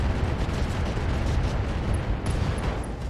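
A mech unloads its AX weapon in the game RogueTech, producing a sustained roaring barrage of blasts and rumbling impacts that stays loud and dense throughout, with no speech.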